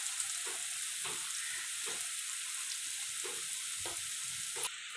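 Tomato masala sizzles steadily in a pan for bhindi masala, a bright continuous hiss with soft periodic scrapes of a spoon stirring, close and even throughout, without talk.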